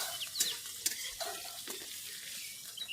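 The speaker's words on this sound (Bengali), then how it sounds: "এটা আমি খুব ভালো করে ভেজে নেবো আলুটা লাল লাল করে" Potatoes frying with turmeric and salt for dhokar dalna, giving a soft sizzle with a few scattered stirring scrapes and clicks, fairly faint and without talk.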